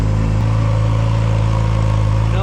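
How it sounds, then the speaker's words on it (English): A used motorcycle engine idles close by, with a steady, even, low throbbing rumble that holds constant for the whole stretch without revving. "Seems like it's idling good."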